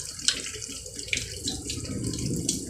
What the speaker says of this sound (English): so that the water flows from the arms to the fingertips